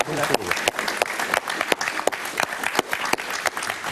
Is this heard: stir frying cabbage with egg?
no